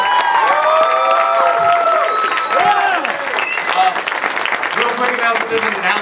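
An audience at a gathering honoring a guest breaks into loud, sustained applause with whoops and cheering voices rising over the clapping, continuous and close for the whole stretch.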